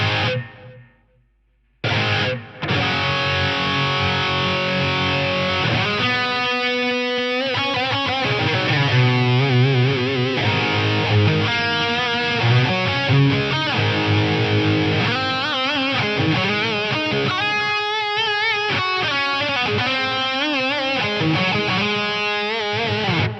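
An electric guitar runs through a Korg A3 effects unit, heavily compressed and distorted, with delay repeats smearing each note into a dense, sustained wash that plays continuously after a brief silent gap near the start.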